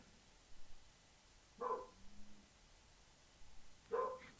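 A dog barks faintly in the distance in two short pairs of barks separated by quiet indoor stillness.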